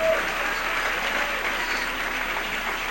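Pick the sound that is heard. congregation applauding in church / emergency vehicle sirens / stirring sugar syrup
congregation applauding in church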